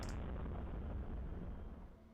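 Distant sonic boom from a Southern Taurids meteor over the Sacramento area: a faint, low, rolling rumble that holds for about two seconds before fading, heard alone without voices.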